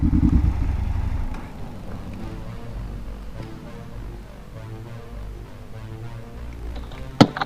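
A brand-new KTM motorcycle engine running: a low, steady idle rumble, fairly close and continuous, stronger at the start, with a sharp knock near the end and no talking.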